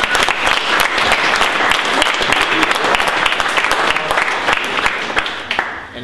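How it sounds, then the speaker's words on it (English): Sustained applause from a crowd at a ceremony making skiing and snowboarding official sports of Vermont, dense steady clapping throughout that eases slightly toward the end. "So, round of applause for them."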